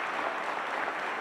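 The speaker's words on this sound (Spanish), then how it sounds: "¿le puedes decir a todo el hemiciclo que le dé un fuerte aplauso a mis compañeras?" A brief burst of dense, steady applause fills an assembly hall at the Fallas naming ceremony for the falleras mayores, many hands clapping evenly with no voices over it.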